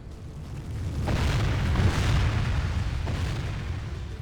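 In the strategy game Third Age: Divide & Conquer, catapults fire flaming shots at trolls: deep, rumbling booms with a couple of sharper impacts rolling into a sustained low roar, no talking.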